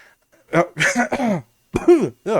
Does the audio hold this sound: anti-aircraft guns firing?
no